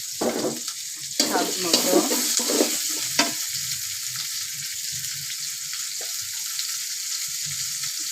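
Prawns and ridge gourd frying in a pan, stirred with a few scraping strokes over a steady sizzle; a voice speaks briefly and the sizzling carries on alone afterward.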